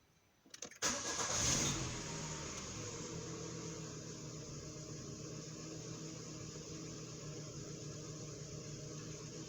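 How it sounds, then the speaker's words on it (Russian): A Citroën Berlingo TU5JP4 engine cranks briefly, catches and revs up, then settles into a steady idle that continues evenly to the end. "Заводим двигатель и смотрим, чтобы у нас было давление масла."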